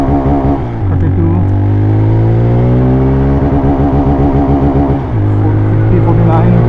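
A TVS Raider 125 motorcycle accelerates hard through its gears, its loud, close engine note climbing steadily in pitch, then dropping sharply at each shift before climbing again.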